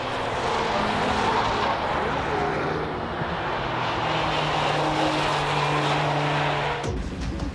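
Porsche 996 Turbo 911 racing on a track, a loud sustained engine roar with steady droning harmonics that holds close and constant before dropping off abruptly near the end.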